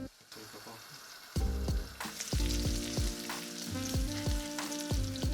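Ham and potato mini pizza fries in a covered pan, a dense, steady sizzle with crackles that grows louder after a clatter near the start, and busy popping continues throughout.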